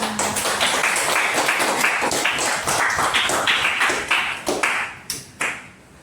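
Applause from a small group in a classroom session, fairly close, dense clapping that thins out into a few scattered claps and fades toward the end.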